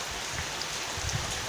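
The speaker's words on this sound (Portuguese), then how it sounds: "esse barulhinho aí atrás é chuva" Steady rain falling outdoors, a continuous soft hiss with faint patter of drops, heard from inside while liquid multipurpose soap is being stirred; no talking.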